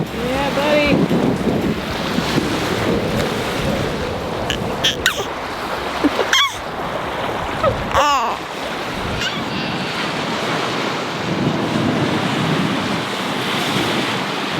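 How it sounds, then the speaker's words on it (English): Strong wind blasts the microphone while waves surge and wash around a kite rig at sea, with a constant roar and rushing water. Voices call out briefly in the middle. "wind's piped up quite a bit, and we've got the 12 meter out now"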